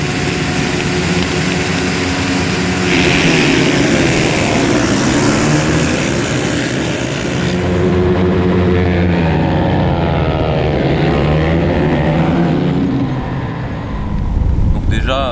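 Motorcycle engines roar on a race track during a warm-up lap, a loud continuous drone that rises and falls with shifting pitch as the bikes accelerate, with a voice talking over it.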